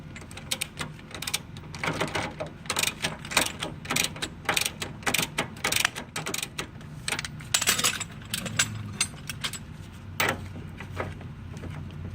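A car's rear stabilizer link is unbolted, with close clicks of a ratchet, metallic clanks and jangling tool noises in irregular bursts.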